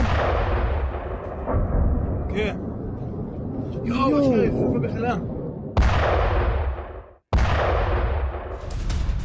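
Explosions from an attack on armed forces in Tehran, Iran, heard as heavy booming blasts with sharp sudden bursts near the end, mixed with voices over the news footage.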